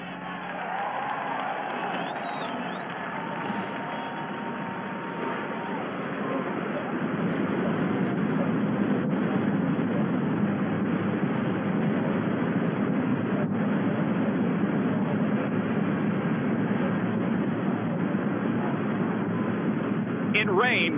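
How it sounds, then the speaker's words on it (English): NASCAR Winston Cup stock car engines fire up together at the 1990 Champion Spark Plug 400 in Michigan, a dense steady roar that swells after a few seconds and holds loud and continuous. "Gentlemen, start your engines."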